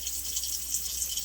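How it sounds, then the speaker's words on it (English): Hot water runs steadily from a tap over a large pot in a kitchen sink, a continuous close hiss of flowing water with no break and no voices. "I'm just going to run hot water over it,"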